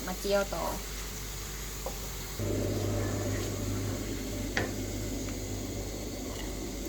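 Garlic frying in oil until golden makes a steady crackling sizzle that swells after a brief pause, with a voice talking over it.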